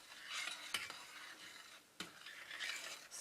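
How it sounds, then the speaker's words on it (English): Rice being stirred in a pot gives a quiet, close scraping swish with two soft knocks of the utensil against the pot, over faint background hiss. "Stir that up here,"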